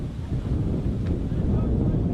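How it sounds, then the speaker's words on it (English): A strong gust of wind buffets the microphone at an outdoor amateur soccer match, producing a steady low roar that stays loud for the whole stretch. "you can see that gust of wind very strong"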